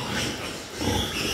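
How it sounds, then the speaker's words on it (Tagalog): Noisy squealing and grunting of piglets nursing from a sow, a close, continuous jumble of small pig sounds over a short stretch. "Ingay na mga biik."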